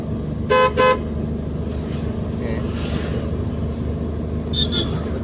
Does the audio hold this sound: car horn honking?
yes